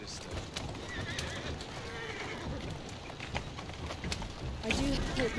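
Horse neighing and clip-clopping hooves on a London street in the video game Assassin's Creed Syndicate, with scattered hoof clatter and a whinny near the end, moderately faint beneath game ambience.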